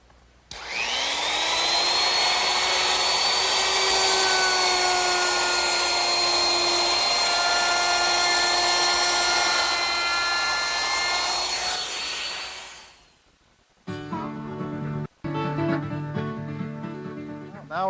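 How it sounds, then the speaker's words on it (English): A router fitted with a 1/4 inch round-over bit shapes the top edges of wooden candle stand legs, giving a loud, steady high-pitched whine for about twelve seconds that winds down, followed by quieter workshop sounds. "I want to use a 1/4 inch rounding over bit, and I want to round over the top edges of each leg."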